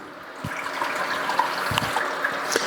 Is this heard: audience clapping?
no